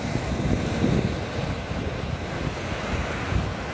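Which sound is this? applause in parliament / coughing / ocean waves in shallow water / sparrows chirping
ocean waves in shallow water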